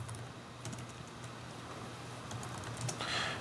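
Soft, close clicking of a computer keyboard as a command is typed, steady irregular keystrokes over a faint room hum with no voices.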